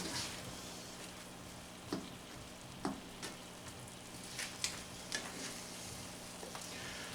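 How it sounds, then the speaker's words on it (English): Ground beef and onions frying in a pan for cheesy beefy mac, a steady low sizzle with occasional soft clicks and scrapes of stirring, fairly faint and without talk. "continue to stir your burger stuff up here"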